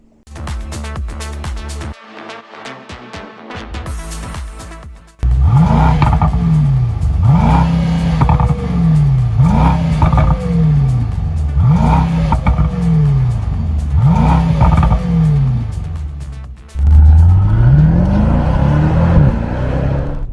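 A Mercedes-AMG GT 63 S E Performance plug-in hybrid sports sedan pulls away and accelerates hard, its engine rising loudly through several gears in repeated rev sweeps with clean upshifts, then surging again near the end.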